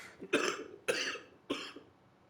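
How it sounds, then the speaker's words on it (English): Three harsh coughs in a row, evenly spaced and close, with no speech. "Started coughing before I could read."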